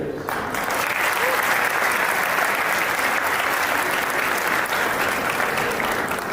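An audience applauds a woman guest at a motivational talk, loud dense clapping that starts abruptly and continues steadily for several seconds, close and even.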